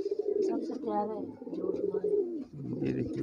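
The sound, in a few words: pigeon cooing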